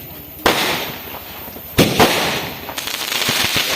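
Diwali firecrackers bursting outdoors during a family celebration, a few sharp loud bangs followed by crackling pops and fizzing that trail off into smaller scattered bursts.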